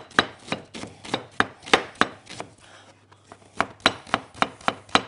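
A knife chops onion and peppers steadily against a cutting board in quick, regular strokes, pausing briefly midway before resuming at the same close, crisp rhythm.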